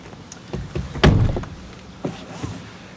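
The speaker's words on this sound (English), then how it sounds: "Close the door just fine." A car door swings shut with one sharp, solid thump close by, preceded by small handling clicks and followed by faint rustling inside the car.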